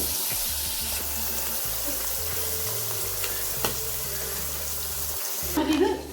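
Spadefish, also called banana fish, fries in hot oil with a steady sizzle, a brief splash and louder bubbling near the end, close up.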